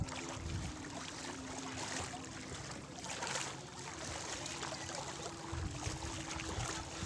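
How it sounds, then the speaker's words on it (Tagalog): A bangka, a small Filipino boat, rides the water off a beach resort in Sorsogon, Bicol, with a steady low engine hum beneath a continuous rush of water and wind that holds even and close for the whole stretch. "Sakay kami ng bangka."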